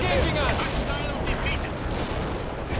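Battle gunfire and explosions in the real-time strategy game World in Conflict, a dense, continuous roar of shots and booms filling the whole stretch at steady loudness.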